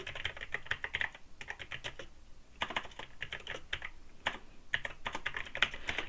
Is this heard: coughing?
no